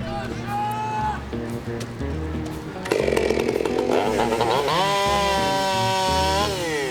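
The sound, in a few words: chainsaw cutting the end off a suspended log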